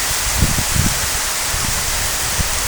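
Heavy rain falling in Velapur village, a loud, steady broadband hiss with soft scattered low thumps of drops, continuous and close, no talking.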